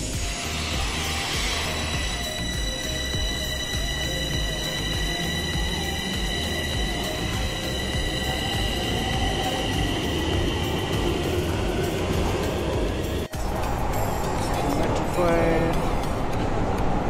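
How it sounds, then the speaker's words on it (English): A metro train pulls into an underground station in Bucharest with a loud, continuous rumble and high whining tones, broken by a sharp clack near the end. "We are waiting for the metro train."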